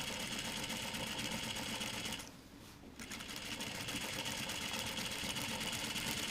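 A sewing machine runs steadily while stay stitching along the neck edge of a Vogue 9039 jacket collar, a continuous close whir that dips briefly partway through before resuming.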